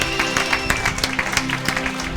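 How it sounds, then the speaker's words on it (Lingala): Worshippers in a church applaud together, regular claps cutting through ongoing music with a dense, lively crowd texture throughout. "Acclamons pour la gloire de Jésus-Christ."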